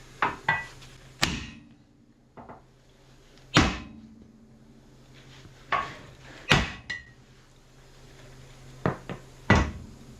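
A hammer whacks a cast steering knuckle to loosen the ball joints: a series of sharp, loud strikes in uneven bursts, some single and some doubled, with quiet pauses between.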